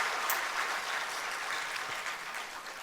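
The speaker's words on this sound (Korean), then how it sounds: "우리 박수로 한번 축복하십시오" Church congregation applauding together in a sustained, steady burst of clapping that fills the room with no voices over it.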